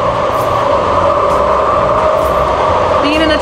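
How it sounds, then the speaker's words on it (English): A UTA commuter train rides through the night, a steady loud rumble and droning hum of wheels and motors filling the cabin continuously with no pauses. "Riding this train is so magical."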